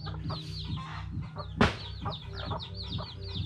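Several chickens cluck and chatter close by, with a sharp burst of flapping or scuffling midway through.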